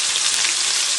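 Ginger, garlic and green chillies frying in a hot pan give off a loud, dense, continuous sizzle for about a second.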